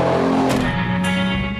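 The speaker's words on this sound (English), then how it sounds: "And the engine doesn't just look good, he says, it sounds sensational." Lamborghini V12 engine running loud and close, a dense revving roar that shifts pitch, drops slightly, then briefly flares again.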